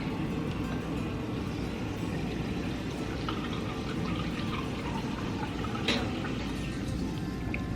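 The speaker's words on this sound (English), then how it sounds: "It says to top with the club soda, half a cup of it." Half a cup of club soda poured into a drink, a steady fizzing, splashing liquid stream running close and continuous throughout with no talk.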